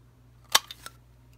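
A triple banner punch trims the end of a paper card strip: one sharp, crisp snap of the punch, followed by two softer clicks, all close and in otherwise near silence.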